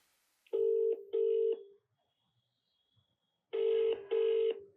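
Telephone keypad tones while dialing to join a conference call: two short beeps, a quiet pause, then two more identical beeps, clear and close with no speech.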